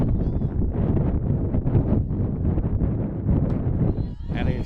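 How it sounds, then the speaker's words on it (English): Wind buffets the microphone in steady low rumbling gusts at a softball game, loud and close, with faint talking underneath. "that is wind you hear"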